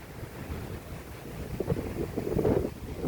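Cold wind gusting across a microphone in a mountain forest, a steady broadband rush that swells louder toward the end, with no talking.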